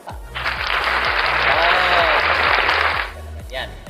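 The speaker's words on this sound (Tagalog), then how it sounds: "Dapat palakpakan yun" Studio audience applause on a Filipino talk show bursts in and holds as a dense, steady wash for about three seconds, then cuts off, with a voice humming along underneath.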